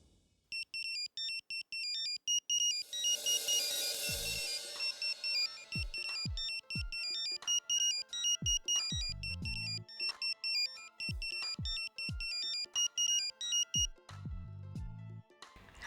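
A mobile phone ringtone plays a looping electronic melody, loud and close, during a Hindi domestic scene, with brief low thumps and bursts of noise interrupting it; little speech.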